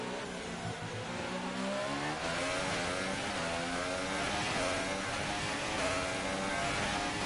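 An F1 car engine in the game F1 2018 drones and revs through shifting harmonic tones at the Italian Grand Prix, held well below the rev limiter, loud and continuous throughout.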